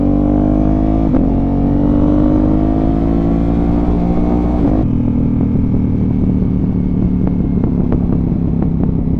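A 2025 Ducati Panigale V4 fitted with an Arrow exhaust revs loudly and close, its engine note rising and falling with sharp crackles and pops on the overrun.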